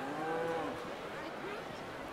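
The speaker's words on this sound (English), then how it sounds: "Imported cows!" Cattle low in a Neverwinter Nights 2 game scene, a single drawn-out moo near at hand that fades into murmuring background ambience.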